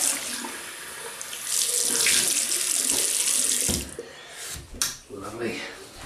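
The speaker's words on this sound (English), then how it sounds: "Right, let's rinse off. Warm water." Warm water runs from a bathroom tap for a post-shave rinse, a loud steady splashing stream that breaks into irregular splashes and drips near the end.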